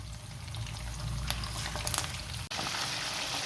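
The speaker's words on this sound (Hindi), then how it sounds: "अब ये एक पैन में मैंने ऑयल लिया है, इतना ज़्यादा गर्म नहीं है, इसमें ये डाल दो कबाब" Kebabs fry in a pan of moderately hot oil, giving a steady, close hiss and crackle that runs throughout, with one brief dip near the end.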